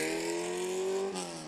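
A race car pulls away from its pit stop, its engine note climbing steadily as it accelerates hard, loud and close, then shifting briefly near the end.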